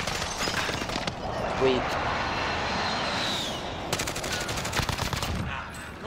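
Rapid bursts of automatic gunfire from the Warzone video game crackle in quick strings, with a longer sustained volley toward the end, heard under players talking.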